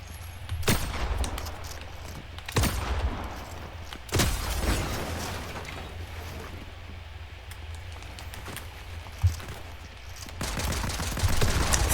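Gunfire in the Fortnite video game, with several sharp, loud shots spaced irregularly across the stretch over a steady background of game ambience, ending in a denser burst of firing.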